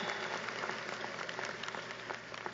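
Audience applause at a university law school commencement ceremony, a steady dense patter of clapping from a large crowd that holds evenly for a few seconds with no speech over it.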